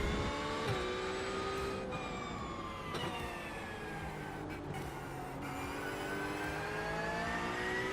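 Sustained Porsche race car engine in the iRacing sim, a steady high-pitched drone with shifting harmonics that rise and fall through gear changes, brief upshift dips, continuous and close throughout.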